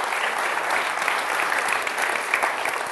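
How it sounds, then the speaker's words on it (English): Steady, dense applause from a large crowd at a fair, continuous and even throughout with no voices standing out. "give Jesus a hand clap of praise if you would."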